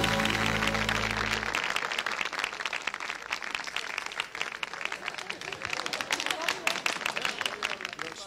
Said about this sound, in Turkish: Alkışlarınız Şeref Taşlova için.